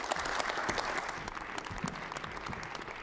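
Audience at a conference session on regional innovation strategies giving warm applause, a moderate, steady patter of many hands clapping from a modest crowd, heard somewhat distant and continuing evenly.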